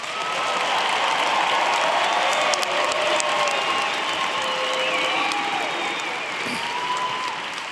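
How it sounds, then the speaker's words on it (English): An audience at a university convocation gives steady, sustained applause for economics graduates, a dense, even wash of clapping from a large crowd lasting several seconds. "We now invite your applause for these economics graduates."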